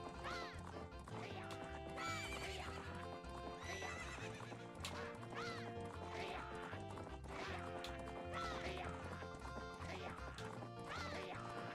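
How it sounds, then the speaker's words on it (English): Horse gallop in the video game Zelda: Majora's Mask, with steady clip-clopping hooves and whinnies heard beneath continuous game music. "Probably because they're riding on adult horses. I'm riding on Epona."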